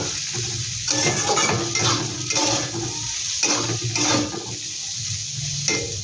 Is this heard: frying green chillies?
yes